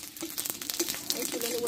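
Semolina and raw milk snack pieces frying in ghee, giving a soft, steady sizzle with light stirring clinks, close and fairly quiet.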